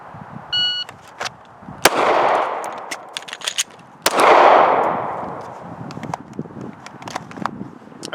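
Pistol shots crack at a shooting range during a slide-lock reload drill: a single shot, a pause, then a rapid pair and more shots, each loud and near with echoing decay and handling clicks between.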